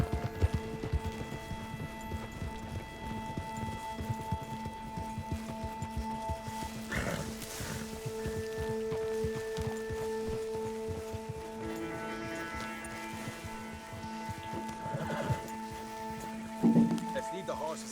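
Horse hooves clop steadily in a video game, Red Dead Redemption 2, along with soft rain-like patter and steady tonal hum, and a brief neigh rises near the end.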